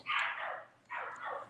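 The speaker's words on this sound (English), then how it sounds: "let me see what she's barking at" A dog barks nearby, giving two drawn-out, whining barks in quick succession against a quiet background.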